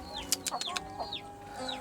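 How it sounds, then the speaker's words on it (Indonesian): A chicken clucks in a short burst of several quick, uneven calls close by at a rural hut, with faint outdoor background between them. "Ayam."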